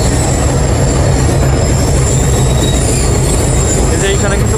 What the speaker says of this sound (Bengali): এই যে দেখতে পাচ্ছেন এই ট্রেন